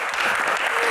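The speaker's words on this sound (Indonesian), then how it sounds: "Tepuk tangan dong." Studio audience applause during a Q&A show, steady dense clapping from a crowd, loud and continuous throughout with no talking.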